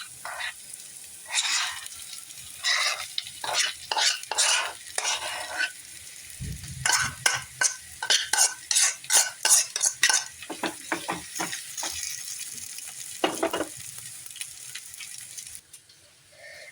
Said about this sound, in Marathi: थोडी कोथिंबीर आणि आपण जो मॅश करून घेतलेला बटाटा जो होता ना त्याला याच्यामध्ये मिक्स करणार आहोत